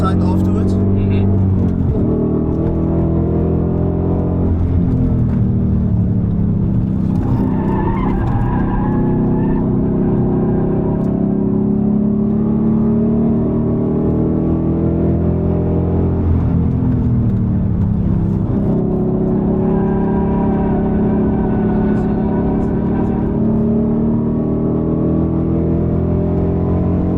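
Rare Ford factory racecar lapping a track, a loud engine drone from inside the car that rises and falls through gear changes, with people talking over it.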